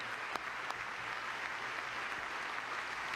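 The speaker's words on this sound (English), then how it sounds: "She's clapping with both hands." Faint, distant applause fills a large chamber during a presidential address to Congress as a steady wash of clapping, with a few sharper claps standing out.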